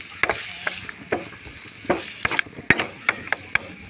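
Carrot and curry leaves frying in a pan for village-style egg semiya, with a soft, steady sizzle under sharp spatula scrapes and taps as the pan is stirred at an irregular pace.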